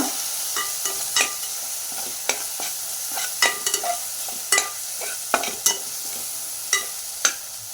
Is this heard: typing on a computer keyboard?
no